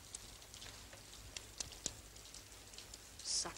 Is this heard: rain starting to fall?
yes